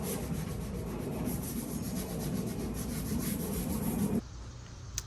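Close, steady abrasive rubbing of sandpaper over painted furniture before a coat of white paint, a continuous scratchy hiss that stops abruptly near the end, leaving a quieter room with no talk.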